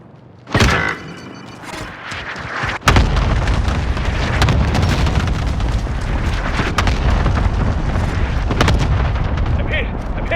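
A cluster strike in the Call of Duty Warzone video game brings a sharp blast, then a second heavy explosion that rolls into sustained loud booming and rumble, with scattered cracks of gunfire throughout.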